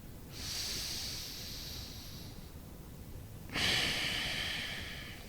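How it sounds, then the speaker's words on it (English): Slow, controlled breathing through the nose during a morning stretching routine: a long soft inhale followed after a pause by a stronger, airy exhale, close and quiet, with no talk. "slow, controlled breath in and out of the nose or out through the mouth."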